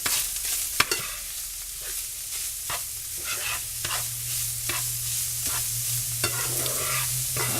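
Seasoned taco meat filling fries and sizzles steadily in a pan while a utensil scrapes and stirs it in repeated strokes, close and fairly loud, with no talking.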